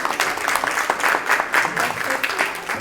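An audience at a university education and health workshop breaks into dense, steady applause to welcome the mediator, Marcos; the clapping stays loud and continuous throughout.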